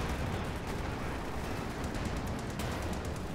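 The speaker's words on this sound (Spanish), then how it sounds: "Aquí me pego un cañonazo." Tank cannon and hull- and turret-mounted machine guns fire in a Company of Heroes 2 multiplayer battle, producing dense, continuous rattling bursts with a sharp heavy blast near the end, loud and close with no talk.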